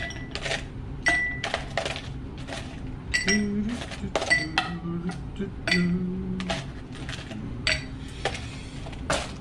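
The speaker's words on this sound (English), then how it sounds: "Put in a couple ice cubes." Ice cubes dropped one after another into a tall glass while a drink is being mixed, giving a run of bright, close clinks and rattles with soft talk underneath.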